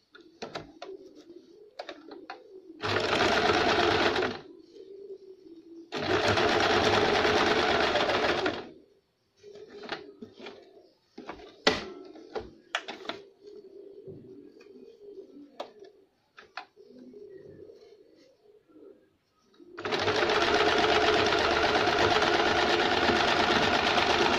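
Sewing machine stitching a baby frock, running in three loud close bursts of steady whirring separated by quiet gaps filled with fabric handling and faint cooing of pigeons in the background.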